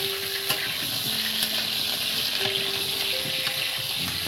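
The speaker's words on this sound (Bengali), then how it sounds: "আলুটা আমি বেশ কিছুক্ষণ এটাকে ভেজে নেবো বন্ধুরা, তবে টেস্ট ভালো হবে।" Potatoes fry in a pan for a mutton and potato curry, giving a steady, close sizzle with a few light stirring scrapes and no talking.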